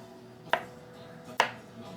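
A knife dicing unpeeled cucumber on a cutting board for gazpacho, two crisp, close chops about a second apart against a quiet kitchen background.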